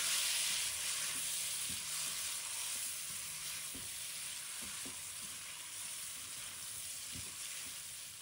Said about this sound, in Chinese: 继续翻炒一下